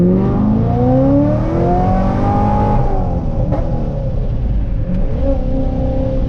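A supercharged 2005 Chevrolet Corvette Z51 with high-performance cams and a ProCharger supercharger rumbles loudly and steadily up close, its deep engine note rising and easing in pitch without any talk.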